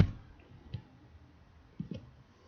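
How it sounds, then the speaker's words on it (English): Computer mouse and keyboard clicks at a desk: a few quiet, sharp clicks spaced apart, one near the start, another about a second later, then a quick double click, all faint against a near-silent background. "just click select here, make box here, and then press delete on your keyboard"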